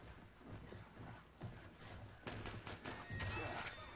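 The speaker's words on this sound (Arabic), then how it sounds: "سيف الخيالة حصان جيد، حصان رماح." Cavalry horse galloping in the World War I shooter game Battlefield 1, with quick rhythmic hoofbeats over a background of battle noise and clatter, growing louder and denser toward the end.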